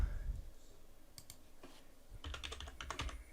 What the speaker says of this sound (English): So let's type in a program.